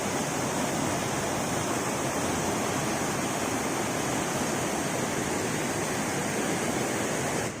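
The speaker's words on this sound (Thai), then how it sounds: "พาผู้ชมมาฟังเสียงน้ำไหลครับ โอ้ดังแรงมากเลย" A mountain stream in the hills of Mae Klang Luang, Chiang Mai, rushing loudly and continuously as a dense, even roar of flowing water with no voices over it.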